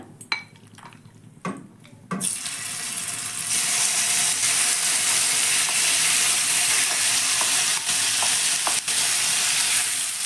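Marinated chicken drops into hot oil with a few clatters, then a loud, steady broadband sizzle of frying settles in and holds, with occasional utensil clicks.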